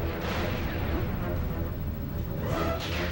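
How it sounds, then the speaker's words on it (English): Rocket launcher fire and explosions in the Jet Force Gemini video game, a triple rocket launcher spammed repeatedly: a continuous heavy rumble of overlapping blasts and booms, with a brighter burst near the end. "Better than any other rocket launcher they have in video games ever."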